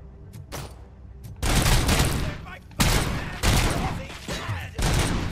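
Video game gunfire in RoboCop: Rogue City: dense bursts of rapid shots in several clusters, loud and close, with brief gaps between volleys and faint background sounds in the pauses.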